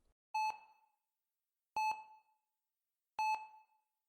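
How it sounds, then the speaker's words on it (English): A heart monitor beeps in a hospital room in an audio drama, three clean electronic tones spaced about a second and a half apart, each a bright pitched beep with a short decaying tail over silence. "the steep beep of a heart monitor"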